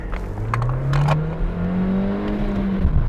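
A Skoda Octavia 1.5 TSI, running on LPG, holds a loud, steady rev near 3800 rpm for a standing launch, its engine drone slightly rising and wavering before the car pulls away.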